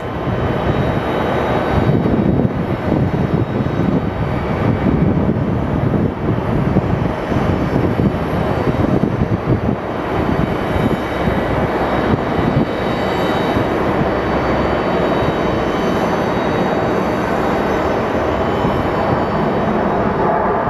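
A US Airways airliner in Heritage livery pushes back at Sky Harbor Airport, with a loud, steady engine roar that stays close and constant throughout.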